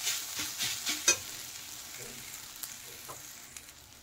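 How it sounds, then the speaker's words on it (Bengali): Water spinach and potatoes are stirred in a frying pan, giving a scraping, rustling stir with a few sharp utensil knocks early on over a soft sizzle that fades toward the end. "এখন শাক অনেকটা সেদ্ধ হয়ে গেছে, নেড়ে দেব।"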